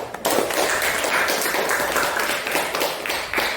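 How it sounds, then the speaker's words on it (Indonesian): A group applauds after a presentation, brisk, close clapping that starts suddenly and carries on steadily to the end, with a voice briefly audible. "Ya, tepuk tangan."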